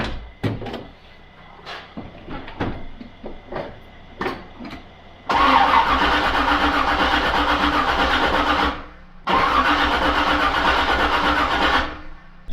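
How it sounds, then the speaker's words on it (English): A Hornet car with no alternator, its battery freshly charged, cranks in two long, loud, grinding bursts without catching, after a series of clicks and clunks from the engine bay. "it should fire right up even though it doesn't have an alternator."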